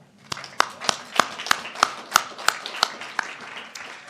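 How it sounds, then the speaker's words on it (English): Sparse, evenly spaced claps from a small audience at a medical society awards event, about a dozen distinct hand claps in a steady rhythm, fairly close and moderately loud. "he deserves a round of applause"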